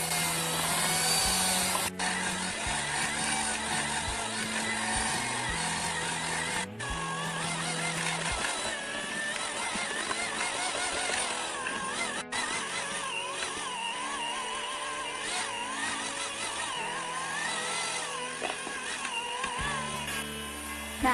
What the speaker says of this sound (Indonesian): Kemudian mixer lagi sampai kalis dan elastis.